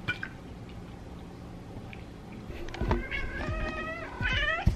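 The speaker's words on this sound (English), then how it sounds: "The most talkative cat, and I'm not mad about it." A talkative cat meows several times in quick succession, fairly close and clear, with wavering drawn-out calls over a quiet indoor background.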